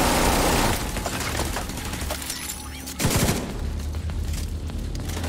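A turret fires in The Division 2, loud rapid automatic bursts close by, cutting off briefly before a second burst erupts with booming impacts.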